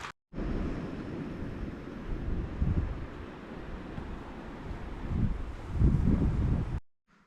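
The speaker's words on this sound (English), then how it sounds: "So the wind was very strong, so we had to move inside because it was just blowing the stove straight out." Strong wind gusts roar across the microphone on a Welsh mountainside, a continuous low rumbling buffet that swells in heavy bursts toward the end before cutting out abruptly.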